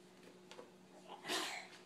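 A single faint sneeze bursts out near the end, after a little quiet breathing indoors.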